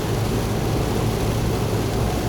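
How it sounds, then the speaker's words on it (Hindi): Heavy monsoon rain pours onto a Suzuki Jimny driving on the Agra-Lucknow Expressway, a loud, steady, dense hiss and roar that continues without a break, with no voices. "आवाज़ आ रही होगी वैसे बारिश की, झमझम झमझम की।"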